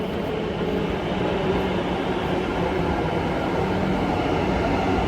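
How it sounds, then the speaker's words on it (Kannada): A Bangalore Yellow Line metro train pulling into the station, a steady loud rumble of wheels and motors rolling in continuously with no voices over it. "ಟ್ರೈನ್ ಬಂತು."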